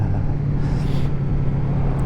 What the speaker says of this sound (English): Yeah, I missed the noise of that exhaust.